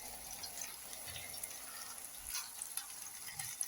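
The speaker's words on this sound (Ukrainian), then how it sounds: "І так жаримо." Homemade cutlets frying in a pan, turned onto their second side, giving a faint, steady crackle and hiss with a few soft pops, quiet and free of speech.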